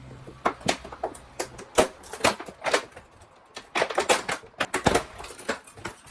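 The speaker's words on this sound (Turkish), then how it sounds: "Oraya bastırıp açıyoruz kutuyu." A Na Na Na Surprise Teens toy box is pressed open at its push tab, producing a rapid string of crisp cardboard clicks, snaps and crinkles close up, with no talking.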